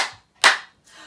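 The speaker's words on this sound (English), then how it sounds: "give a little clap" A single sharp hand clap at a children's Bookbug rhyme session, close and loud, with softer rustling sounds before and after it.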